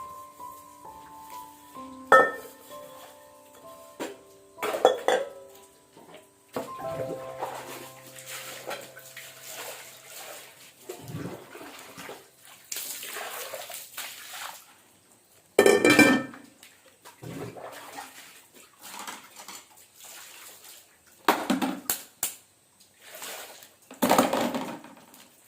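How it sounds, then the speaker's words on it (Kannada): Dishes and pots being washed under running water on a rainy village day, with intermittent clanks and knocks of vessels over splashing water, a scattering of sharp hits separated by quieter stretches, fairly close. "ಪಾತ್ರೆಗಳನ್ನ ಕೂಡ ತೊಳಿತಾ ಇದ್ದೀನಿ"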